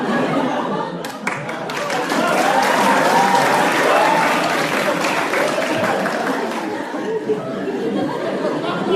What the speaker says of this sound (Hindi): ये ताली क्या मार रहे हो बे?